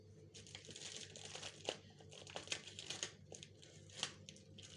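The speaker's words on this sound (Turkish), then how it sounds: "Böyle bir tane dondurulmuş pizzayı açıyoruz." Frozen Dr. Oetker Guseppe mixed pizza plastic packaging being crinkled and cut open with scissors, a steady run of soft, close crinkling and tearing with no talk.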